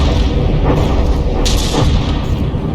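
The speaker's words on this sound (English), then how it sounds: "the Divine Offering's APS gun is now shooting itself" Battleship APS cannon in the naval combat game From the Depths firing into its own ship, a dense roar of rapid booming blasts and crashing impacts that runs without a break and stays loud throughout.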